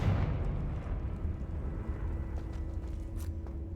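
Confringo spell explosion in Hogwarts Legacy, a loud booming blast at the start that fades into a low rolling rumble with a few faint crackles afterward.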